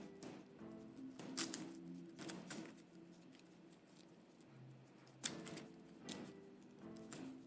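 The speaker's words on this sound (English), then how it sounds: "we're gonna give these a good shuffle here, reasonable shuffle." A deck of game cards for a small-box dungeon board game being shuffled by hand, a run of soft papery riffles and taps in quick bursts, close and quiet, with no talking.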